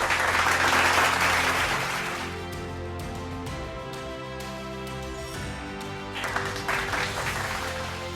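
Applause from the audience at a business awards ceremony, the clapping loudest at the start, thinning to a softer patter beneath a sustained musical tone, then swelling again near the end.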